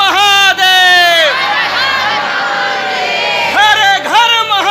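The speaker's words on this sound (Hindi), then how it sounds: "सब बाबा जी का जयकारा लगाते हुए, बम बम भोले कहते हुए आगे बढ़ते जा रहे" A loud, close crowd of devotees at Baba Baijnath Dham jyotirlinga chants Bam Bam Bhole in long, rising and falling calls that repeat, with general crowd noise underneath.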